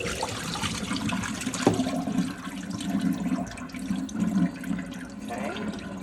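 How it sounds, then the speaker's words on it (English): Rinse water is poured off raw chicken into a sink, making a continuous splashing, gurgling pour that stays moderately loud and close for several seconds with no talking. "So we want to go ahead and dump all that water off of there."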